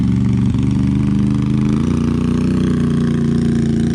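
UTV fitted with an RJWC Krossflow exhaust rumbling steadily nearby, a loud continuous low engine drone with a slight shift in pitch partway through and no talking.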